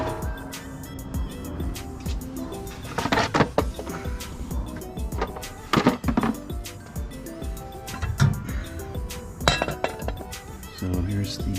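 Metallic clinks and rattles of bolts being taken off during a car part install on a daily driver, with intermittent tool clatter and a person talking over the work.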